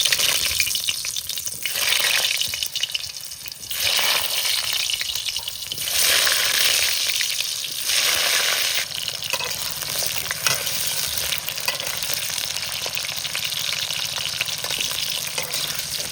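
Potatoes fry in hot mustard oil in a wok, a loud, close, continuous sizzle and crackle that swells and eases in waves as they are stirred, with no talking.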